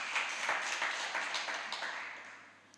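A church congregation breaks into a burst of clapping that is dense at first, then gradually thins and fades over a few seconds, heard fairly faintly.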